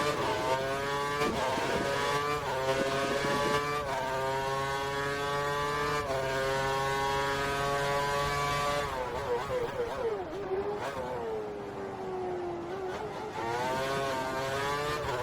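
Formula 1 car engines howl in a racing video game set at the 2013 Korean Grand Prix, with loud, high-pitched whines climbing and falling through gear changes as cars pass one another.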